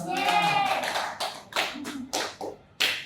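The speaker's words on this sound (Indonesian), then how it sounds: "Ya, wes, tepuk tangan." A small group in a nursing-assistant training class claps hands in short, uneven bursts, with a few separate taps toward the end and some voices mixed in.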